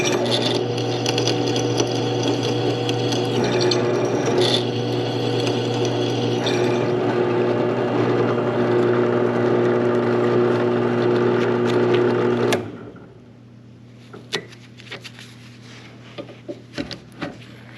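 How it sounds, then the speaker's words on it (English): A power drill whines steadily for about twelve seconds drilling holes in a handcrafted door pull, then cuts off, followed by scattered light clicks and taps. "I'm going to drill the rest of the holes now in the other 3 pull handles"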